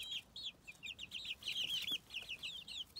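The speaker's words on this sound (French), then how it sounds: "Maman poule." A mother hen clucks among her chicks, whose rapid high peeps dominate, faint and close in a quiet outdoor setting.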